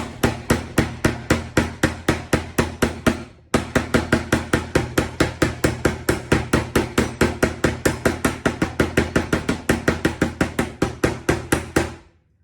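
Rapid, steady pounding, a long run of sharp whacks with the back of a utensil tenderizing a saltimbocca escalope on a board, briefly pausing once before continuing at the same brisk pace.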